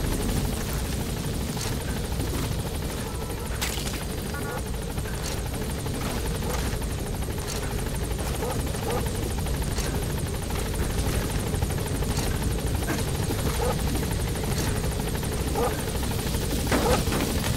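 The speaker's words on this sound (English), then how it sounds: "I guess the helicopter felt the need to take that guy out" A military helicopter in the video game Metal Gear Solid V, its rotor and engine drone steady and loud throughout, with faint game sounds scattered on top.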